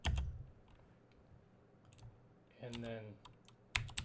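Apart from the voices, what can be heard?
typing on a computer keyboard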